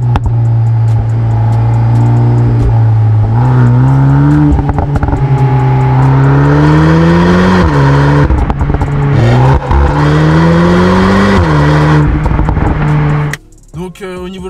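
A loud Volkswagen Golf 8 R engine revs and drones steadily through the exhaust with rising and falling pitch, then cuts off sharply near the end.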